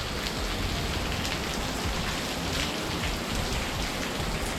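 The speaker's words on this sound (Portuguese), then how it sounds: "Olha a chuva que tá caindo" Steady heavy rain pours down outdoors during an aborted mountain bike ride in Barretos, a dense, even hiss of drops with no pauses.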